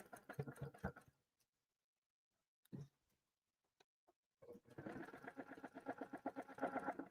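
A sewing machine stitches a quilt in two quick runs of rapid, rhythmic needle chatter, split by a long pause with a couple of small handling knocks.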